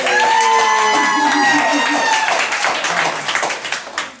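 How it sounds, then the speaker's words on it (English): Audience applause and cheering at a retirement party in Hollister, NC, loud and continuous with whoops and voices mixed in, fading slightly toward the end. "Let's give him another round of applause."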